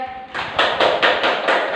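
A classroom of students claps hands in rhythm during a lesson, with five sharp, evenly spaced claps close by after a brief quieter lead-in.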